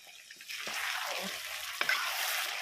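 Steady hiss of chicken frying in oil, with a couple of sharp clinks from a utensil against the pan.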